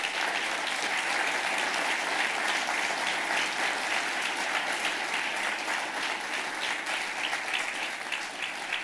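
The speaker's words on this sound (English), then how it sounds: "I wish that you would give John and everybody a round of applause here today" Sustained applause from a large audience at a public presentation on a long-term plan, steady and dense throughout with no speech over it.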